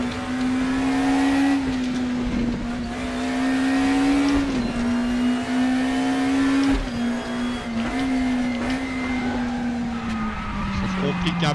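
A car engine roars in a racing simulator game, holding a loud, steady drone that dips and climbs with gear changes, with tyre squeal and skidding mixed in as the car is driven hard.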